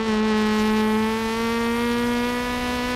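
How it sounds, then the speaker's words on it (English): A naturally aspirated rally car engine in a sim racing game holds a loud, steady high-revving drone with a gradually shifting pitch, close and continuous. "It's actually more exciting to hear these naturally aspirated cars more than the turbo 1 liter 3-cylinder of the Fiesta."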